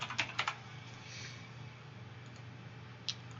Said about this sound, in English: we're going to type in toggle visibility